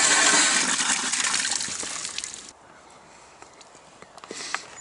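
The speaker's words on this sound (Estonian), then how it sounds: "Selline see pump on. Siit hakkab keerama ja vesi tuleb." Water gushing from a hand-turned pump, a loud broad rush for about two and a half seconds that cuts off, leaving quiet with a few faint drips and a small splash near the end.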